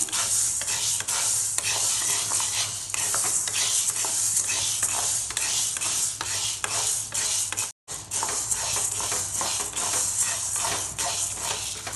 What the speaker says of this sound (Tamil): பருப்பு நல்லா வறுபட்டுருச்சு, கலர் சேஞ்ச் ஆகி வந்துருச்சு.